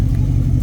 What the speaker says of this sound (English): I'm working on the exhaust right now, in case you couldn't tell.